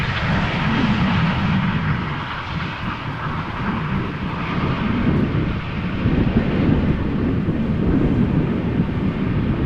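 Jet airliner arriving at Amsterdam Schiphol Airport, a loud sustained engine roar that swells and rumbles as the aircraft passes, heavy low-frequency thunder with wind noise across the microphone and no talk.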